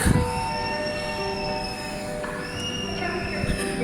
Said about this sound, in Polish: skład powinien tutaj przyjechać, tutaj na peronie czwartym skończyć bieg